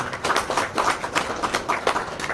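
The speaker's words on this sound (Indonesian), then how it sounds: "Tepuk tangan untuk Bapak Ibu semuanya" Participants at a training session clap in a steady rhythmic pattern, moderately loud hand claps repeating in groups for a couple of seconds with no talking over them.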